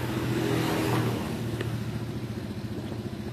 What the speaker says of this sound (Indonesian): ini kan ada bunyi geledek-geledek sama getar. Itu dari mesin tengahnya goyang.